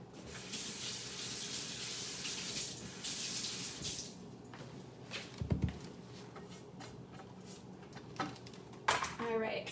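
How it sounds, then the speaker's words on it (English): Running tap water splashes into a kitchen sink as utensils are rinsed, a steady hiss for several seconds, followed by quieter clinks and knocks of kitchenware. "Let me just rinse this real quick."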